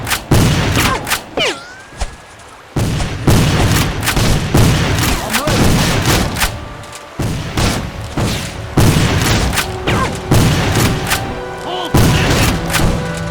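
Civil War era firearms in the game Civil War Secret Missions crack in a rapid series of loud, booming shots, some in quick bursts and some spaced apart, with brief gaps of near silence between volleys.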